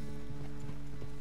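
Horse hooves clip-clop in a quick, even rhythm while riding in Red Dead Redemption 2, a close, steady patter over a low game hum.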